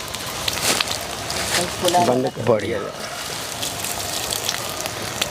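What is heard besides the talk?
water sprinkler spraying water on vermicompost beds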